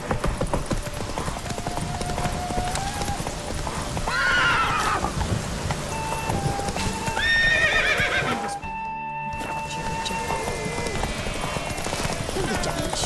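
Horse hooves clip-clop at a gallop in the Witcher 3 video game, with neighs and whinnies rising over busy game music and ambience, and a brief dropout near the end.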